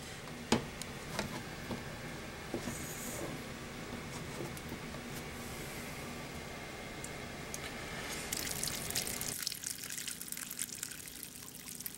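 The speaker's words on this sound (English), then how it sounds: "now you can go back and turn the main cold water on, or turn the cold water onto the hot water heater" Water flushing out of a home hot water heater tank through the drain, a steady hiss and gurgle with faint dripping and scattered clicks, turning brighter and harsher near the end; no talking.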